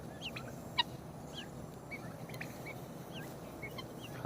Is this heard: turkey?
yes